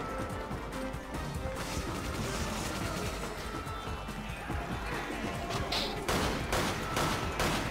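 Rapid, dense gunfire in the video game Resident Evil 5 Mercenaries: a steady barrage of overlapping shots and impacts that runs loud and continuous throughout, with faint voices in the mix.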